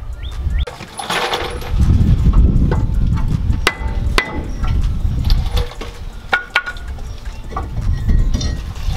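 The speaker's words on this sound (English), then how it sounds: "I will just use a 2x4 on the opposite side and then hammer it outwards" A hammer drives a 2x4 against a rusted brake rotor on a Tacoma front hub, several sharp metallic knocks ringing out at uneven intervals over a quieter workshop background.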